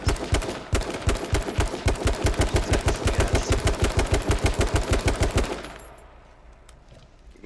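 Rapid automatic gunfire in the video game H1Z1, a loud, close, evenly paced burst of shots lasting several seconds before it cuts off into quieter ambience.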